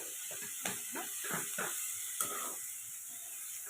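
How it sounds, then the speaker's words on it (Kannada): Onions frying in a pan with curry leaves for mandakki oggarane, a steady bright sizzle with scattered crackles and stirring scrapes throughout, close and fairly quiet. "ಸೊ ಈರುಳ್ಳಿನ ಚೆನ್ನಾಗಿ ಬೇಯಿಸ್ಕೋಬೇಕು"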